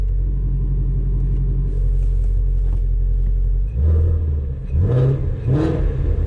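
Ford Mustang GT350 engine rumbling at idle, a deep steady throb that breaks into two or three sharp revs with a rising roar and quick fall-off, close and loud, without any talk.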